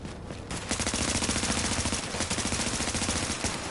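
Rapid automatic gunfire in a shooter video game, a loud continuous burst of evenly spaced shots starting after a brief quiet moment and running to the end.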